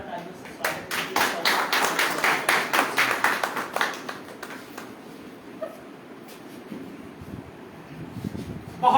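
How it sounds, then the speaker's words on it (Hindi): An audience at a Hindi-language gathering claps to welcome a speaker, with distinct hand claps over the first four seconds before thinning out, then talk continues over a few scattered claps. "जोरदार तालियों से स्वागत कीजिए।"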